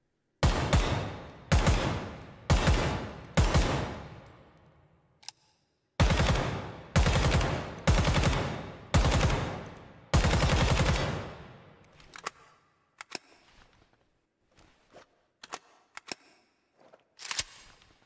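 AK-105 rifle fire in the video game Ground Branch comes in several loud, close bursts of rapid automatic shots separated by short pauses, followed by scattered faint clicks and a final shot.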